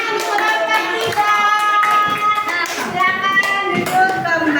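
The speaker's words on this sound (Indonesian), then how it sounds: "Tepuk tangan untuk kelompok tiga." Classroom applause for a student group during an open class lesson, a steady patter of hands clapping mixed with children's voices and chatter, fairly loud and close throughout.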